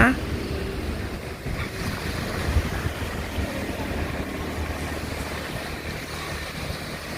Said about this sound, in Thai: ฟังเสียงบรรยากาศเสียงทะเลค่ะ